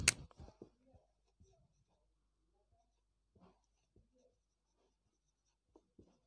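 Writing during a physics class lesson comes through as faint, scattered scratching strokes in a quiet room, with brief soft murmurs between them.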